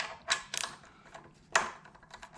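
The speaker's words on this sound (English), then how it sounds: "Take an 8 millimeter ratchet, preferably with an extension, and we're gonna take these screws out right here." An 8 mm ratchet with an extension backs out headlight guard screws on a 2022 Triumph Tiger 900, giving faint, close clicking bursts at irregular intervals with quiet pauses between.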